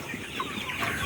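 Sonali High Super Plus chickens, 52 days old, clucking steadily on a poultry farm, a dense continuous flock murmur with scattered individual clucks standing out, close and fairly loud throughout.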